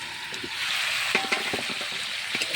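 Poultry chicken curry cooks down in a pan over low heat as its water boils off, a soft close sizzle with scattered bubbling pops and occasional stirring scrapes, no talk.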